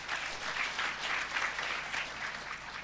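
A church congregation applauds during a sermon, a steady rolling wave of many hands clapping, moderately loud and sustained throughout.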